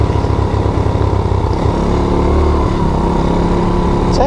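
A Baja Wilderness 90 mini bike engine drones steadily while being ridden, a loud continuous buzzing hum with no breaks and no talking.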